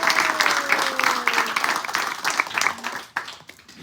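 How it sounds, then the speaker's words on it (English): Audience applause at a devotional gathering for a small composting program, with brisk, fairly loud clapping from a group and some voices and a faint tone underneath, thinning out near the end. "Let's give them a big round of applause."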